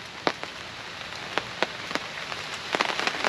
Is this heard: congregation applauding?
no